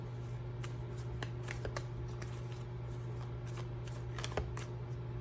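Tarot cards shuffled by hand in a steady run of soft riffling flicks and snaps over a constant low electrical hum, close and fairly quiet, with no talking.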